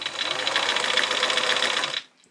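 A sewing machine stitches a patchwork and gingham dress with thread guided between the presser foot legs, a close, fast, even mechanical whir that stops abruptly near the end.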